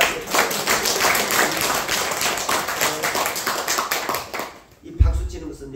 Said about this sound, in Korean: 또 박수 한번 하세요.